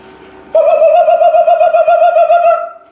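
A man whistles an imitation of nightingale song, a loud, close, steady warbling trill with rapid pulsing repeats, held for about two seconds after a faint lead-in, then fading.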